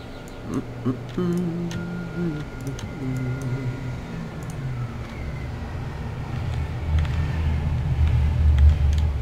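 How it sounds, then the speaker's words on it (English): Loud road traffic, a continuous low rumble of passing vehicles that swells toward the end, with scattered clicks and tones over it. "And sorry for the loud traffic."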